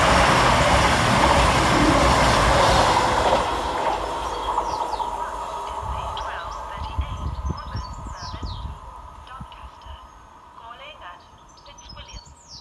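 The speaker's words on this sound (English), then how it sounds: "Whilst running 8 minutes early for cross country is 221-121, working 1 Sierra 39 from Plymouth to Edinburgh Waverley." A CrossCountry class 221 diesel unit on a Plymouth to Edinburgh Waverley service passes through Sandal and Agbrigg station, loud and rushing at first, then fading into a lingering rumble as birds chirp nearby.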